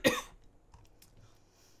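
One short, sharp cough up close, followed by quiet rustling.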